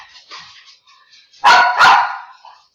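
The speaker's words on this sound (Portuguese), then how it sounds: "o cachorro aqui está..." A dog gives two loud, close barks in quick succession, with soft yips and faint sounds before them and nothing else around.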